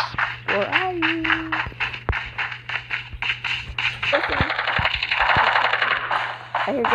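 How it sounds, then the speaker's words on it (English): Rapid bursts of automatic gunfire crackle in quick succession, with game sound effects and a continuous electronic tone underneath. "I hear gunfire."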